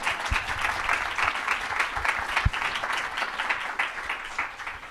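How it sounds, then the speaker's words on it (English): An audience at a cartography conference session applauds an exhibition organizer, giving steady, moderately loud clapping that carries on evenly with no talk over it. "give her a round of applause, please"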